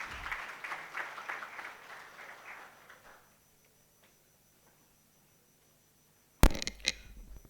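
An audience at the inaugural session of an innovation conference applauds for a few seconds until the sound fades out. A stretch of silence follows, then a sharp thump.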